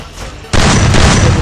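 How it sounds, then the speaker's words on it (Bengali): Gunfire from the Free Fire video game cuts in abruptly after a quiet moment and becomes a loud, dense, continuous burst of rapid shots. "তো ক্যারেক্টার গুলি মারতে চায়"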